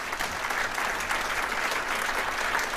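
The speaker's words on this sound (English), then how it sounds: "So we should give her a big round of applause." Steady, dense audience applause fills the room at a regional political event, sustained and even throughout with no pauses or voices standing out.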